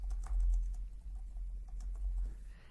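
Soft, quick key taps on a computer keyboard as notes are entered into software, faint and irregular over a low background hum.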